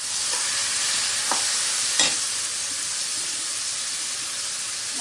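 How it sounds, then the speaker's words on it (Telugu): Curry leaves and green chillies hit hot oil in a tempering for pulihora pulusu, giving a steady, close hissing sizzle with a couple of brief crackles early on. "ఇప్పుడు ఇందులో కర్రీ లీవ్స్, అలాగే గ్రీన్ చిల్లీ,"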